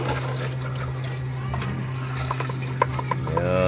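A small child washes dishes under a running tap, a steady trickle of water with scattered light clinks over a low hum, and faint voices in the background.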